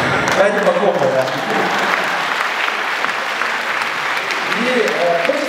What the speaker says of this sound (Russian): Давайте похлопаем, да.